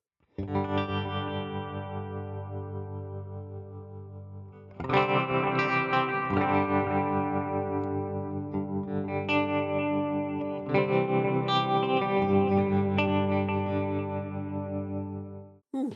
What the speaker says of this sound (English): this is the tremolo sound we have